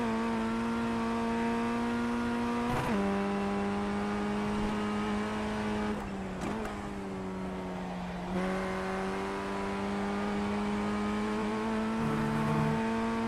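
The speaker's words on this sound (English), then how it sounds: "I do love the sound of this car. It sounds brilliant." A race car engine in a driving video game drones at high revs at Mount Panorama, pitch dipping briefly at gear shifts and recovering, steady and close throughout.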